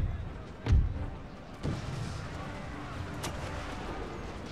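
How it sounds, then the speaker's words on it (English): Howitzer artillery in a Napoleonic-era strategy game battle for the Netherlands at High Hill, with a deep, heavy boom followed by two fainter distant thuds over a steady battlefield rumble. "Our howitzers pounding the enemy."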